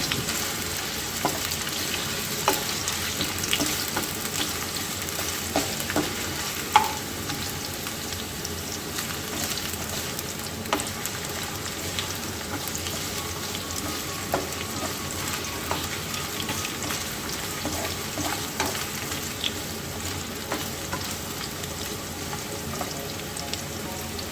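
Chopped carrots fry steadily in a pan for a shepherd's pie, giving a continuous soft sizzle with faint crackles and occasional stirring taps, no voices.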